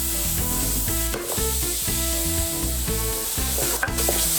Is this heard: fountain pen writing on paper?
no